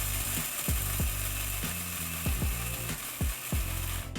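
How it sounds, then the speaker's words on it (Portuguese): Coffee beans ground for a V60 pour-over, with a steady run of rhythmic ratcheting, crunching strokes that repeat about twice a second, close and fairly loud, with no talking. "quanto tempo você vai ficar moendo esse café"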